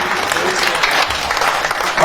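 Theatre audience clapping at a jubilee evening in the Griboedov Theatre, a dense, steady wash of applause that fills the short stretch, with a voice briefly audible under it.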